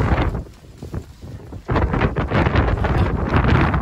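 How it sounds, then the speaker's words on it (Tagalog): Strong gusting wind sweeps across a farm in Kuwait, roaring and buffeting the microphone, easing briefly before surging back harder and staying loud to the end. "Sobrang lakas ng hangin dito."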